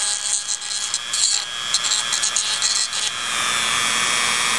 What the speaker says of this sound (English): Okay, and we're all done deburring.